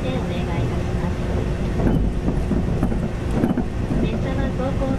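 A Yakumo series 381 express train runs on the Hakubi Line between Okayama and Niiya, a steady heavy rumble of wheels and cabin noise heard from inside, with rhythmic clatter under a conductor's announcement.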